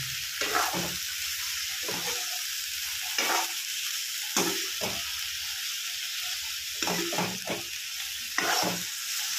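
Eggplant frying in reused oil for a bitter gourd and eggplant dish, a continuous close sizzle broken by repeated scraping stirs of the spatula.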